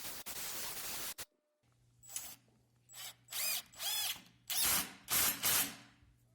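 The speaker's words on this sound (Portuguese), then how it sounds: "Agora vamos escariar." A power drill countersinks a hole through metal tubing and MDF. A loud burst plays first, then after a pause come five or six short whirring bursts in an uneven rhythm, close up over a faint steady hum.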